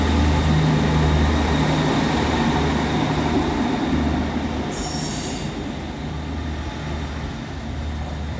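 A Northern class 155 diesel unit, 155343, arrives at Selby station with a loud, close rumble and squealing wheels. A short hiss of air bursts out midway as the noise gradually eases.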